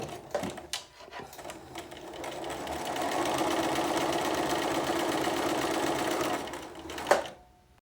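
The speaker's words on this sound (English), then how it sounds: "I have put that fabric directly underneath that guide, and so I'm going to stitch this out." A sewing machine stitches two half square triangles of fabric along a quarter-inch seam guide, running in a steady close whir for several seconds after a few short starts, then stopping.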